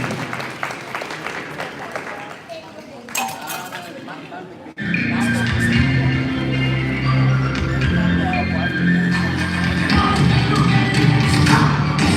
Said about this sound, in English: One more time, a big hand of applause for this beautiful young man and woman.